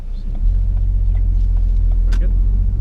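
A car pulls away during a driving lesson at a pedestrian crossing, its engine a steady, close low rumble that swells slightly as it moves off and holds evenly throughout.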